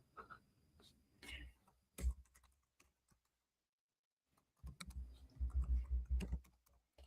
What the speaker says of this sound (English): You would type in your email.